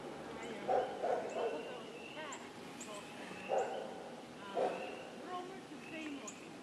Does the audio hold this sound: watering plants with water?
no